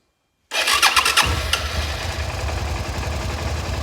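Suzuki SV650 motorcycle with 160,000 km, taking on water, cranks briefly after silence and catches, then settles into a steady, loud close-up idle; no talking.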